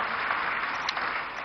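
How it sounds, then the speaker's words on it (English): Audience applause for a discussion panel at an NED 2025 event, a steady dense clatter of many hands clapping throughout, fairly close and even in level with no voices. "I think the panel deserves a round of applause."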